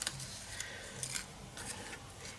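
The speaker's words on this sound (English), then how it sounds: "I stamped that on some sticky post-it note, fussy cut it" Small scissors snip around a stamped image on a sticky post-it note, giving a few faint, crisp, close cuts spaced irregularly over quiet background.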